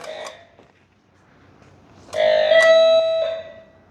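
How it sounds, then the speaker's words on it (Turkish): A doorbell rings once, a bright two-tone chime that sustains and fades, clear and close in an otherwise quiet room. "Evin zili de var değil mi? Bakın zilimizi bile takmışlar arkadaşlar."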